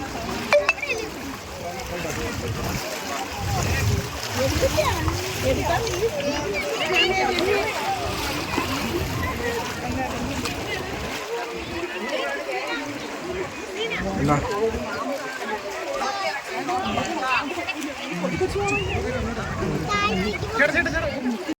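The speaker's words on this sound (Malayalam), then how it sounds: "ഭയങ്കര തിരമാല ശക്തിയാണ്" Strong sea waves crash and splash against rocks on Kappil beach, a continuous loud roaring wash of surf with people talking throughout.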